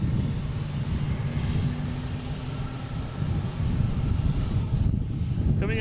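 A United Airbus A319 comes in to land at Boston Logan, its jet engines a loud, steady low roar with some wind buffeting the microphone, sustained and close.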